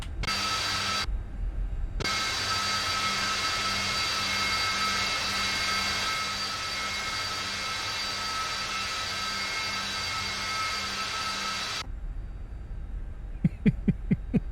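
Twin jet engines of a Carenado S550 Citation II spooling up for takeoff in a flight simulator: a steady loud whine and roar that holds for about ten seconds, then cuts out, followed by a few short clicks.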